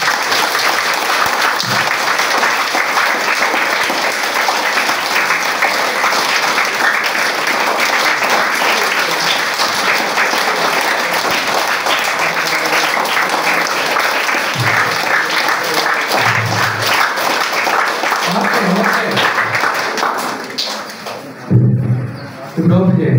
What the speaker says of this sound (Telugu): ఇంకా ఇంకా గట్టిగా క్లాప్స్ కొట్టండి